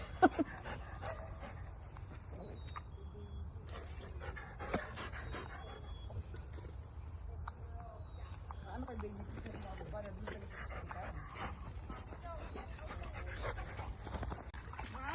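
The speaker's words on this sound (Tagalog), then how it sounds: "marami na aso" Dogs, including a Shih Tzu and a Labrador, pant and give occasional short barks and whimpers, moderately close, under a steady outdoor park background with scattered human voices.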